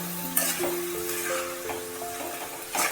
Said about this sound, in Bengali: এবার এটা নেড়ে ভালোভাবে মিশিয়ে দিতে হবে।